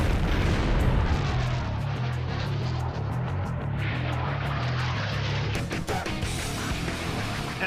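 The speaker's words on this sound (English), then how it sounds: "the Swedish Air Force is putting a prototype Saab JAS-39 Gripen fighter through the paces." A prototype Saab JAS-39 Gripen fighter jet roars loudly and steadily overhead, its engine rumble continuous throughout with no voices.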